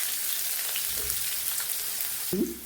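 Sliced onion frying in oil with cumin and mustard seeds, a soft steady sizzle with a couple of low stirring clunks, the loudest just before the end.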